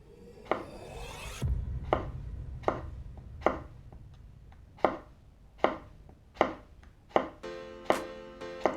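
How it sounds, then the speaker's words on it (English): A knife slices half a cucumber into very thin pieces on a cutting board for cucumber carving, about ten crisp, distinct chops that settle into a steady rhythm, close and clear. "Cut very thin slices, you know, and don't cut your finger."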